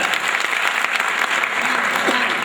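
An audience at a Pasmanda Muslim community gathering claps in a dense, sustained burst of applause, close and loud throughout the short stretch.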